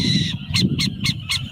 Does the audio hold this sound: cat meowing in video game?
no